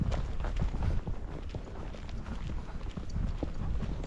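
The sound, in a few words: barefoot horse hooves walking on soft ground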